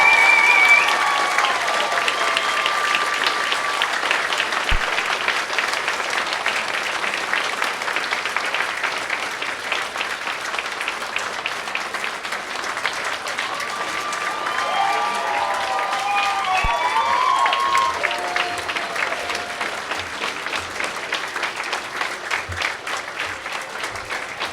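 Sustained audience applause at a paramedic program pinning ceremony for the graduating class of 2022, a steady wash of clapping that continues without a break and fades slightly near the end, with faint crowd murmur underneath.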